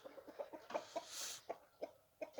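A young, large-bodied rooster clucks in a run of short, sharp calls, about a dozen spaced irregularly, fairly close, with one longer raspy burst in the middle and no talk.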